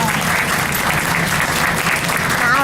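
An audience applauds a glassblower's finished bowl, with dense, steady clapping that holds at full strength throughout.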